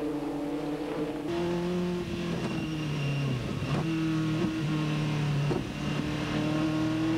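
TVR Tuscan race cars in a 1997 one-make race, heard from on board as the engine revs steadily and shifts gears several times, loud and close with no talk.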